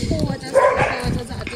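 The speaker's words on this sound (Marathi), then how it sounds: "ओ माय गॉड, कुत्रे भुकायला लागले." Dogs barking at night outdoors in a village area, a few sharp barks and yips rising briefly amid voices and background noise, moderately close.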